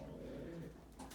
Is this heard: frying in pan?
no